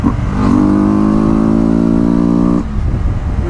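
Yamaha TW 300 motorcycle engine revving hard, holding a steady high-pitched drone for about two seconds, then dropping off abruptly as the gear shifts and settling back to a lower idle-like rumble, loud and close.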